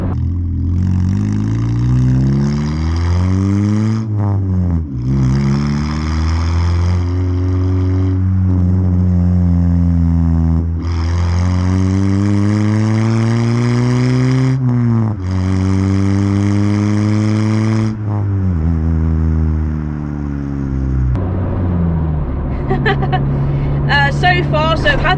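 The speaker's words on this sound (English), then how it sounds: "I have got it to do a couple of pops when it's in kind of the high rev range in second gear." Modified Honda car with a loud aftermarket exhaust, revving hard through gears in repeated rising and falling sweeps, loud and close, with a few sharp pops near the end.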